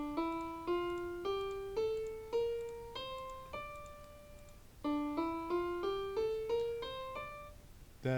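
A scale played on a pitched instrument with its sixth degree flatted, ascending and then repeated as a series of distinct, evenly spaced notes, each struck and left to ring out, with a short gap between the two runs.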